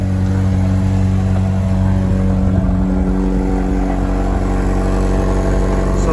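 Car engine idling at a cold start through a stock exhaust with a slight leak, a steady low rumble that stays loud and even, close by with no talk.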